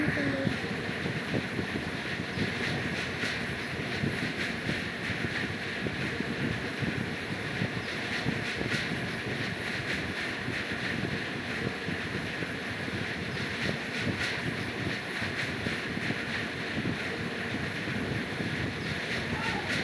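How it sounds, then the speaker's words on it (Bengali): A train in the Indian Bike Driving 3D game runs at full speed, a constant loud rushing rumble with wind-like noise that stays even throughout, with no talk over it. "আর আমি ফুল স্পিডে চালাচ্ছি ট্রেনকে"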